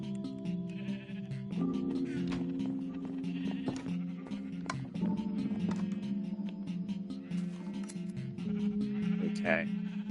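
Sheep bleat in Minecraft, repeated wavering cries over a steady in-game background, with a voice talking through much of it.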